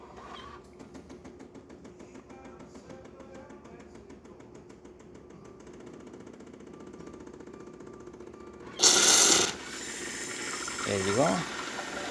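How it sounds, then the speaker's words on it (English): Miele coffee machine froths a milk-cleaner substitute through its cappuccino system, a steady low pumping hum with a loud hissing burst near the end, and a person speaks briefly. "As you can see, nice steady foam coming out of the machine."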